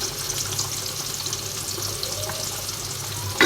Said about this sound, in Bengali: চিকেনের তেল দিয়ে যে আমরা পেঁয়াজটা ভাজতে বসিয়েছি